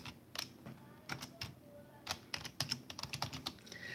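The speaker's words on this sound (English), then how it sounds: "I'm gonna move my keyboard a little bit because I can actually type y'all at the same time too." Someone types on a computer keyboard, with quiet, irregular clicks and clattering keystrokes in uneven bursts close to the mic, with no talking.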